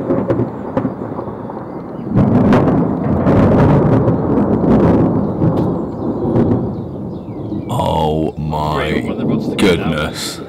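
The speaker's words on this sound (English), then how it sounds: "So it sounds like we've got a thunder." Thunder from an approaching storm rolls over a catfish-fishing spot in France, a long, loud, deep rumble that swells and lingers for several seconds before a person starts speaking close by.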